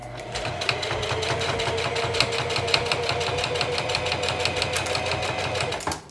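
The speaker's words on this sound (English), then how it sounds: "And I'm not pulling the machine, I'm helping guide the machine." A sewing machine stitching a fabric sweatband runs steadily and close, a fast even mechanical chatter with a constant motor hum that stops abruptly at the end, with no talk over it.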